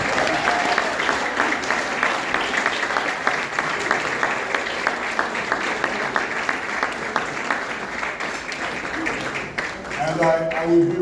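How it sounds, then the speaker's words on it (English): An audience at a Bahamas pre-independence golden jubilee gala gives sustained applause, a broad, even roar of clapping from many people in a hall, with a voice coming in briefly near the end. "Can you please give him a round of applause,"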